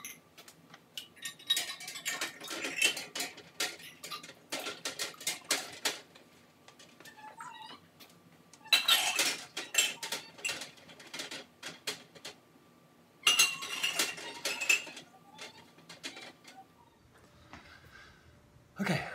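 Glass jars clink and rattle against a metal pot of boiling water in several bursts, close and bright, over a faint low hum, with quieter pauses between.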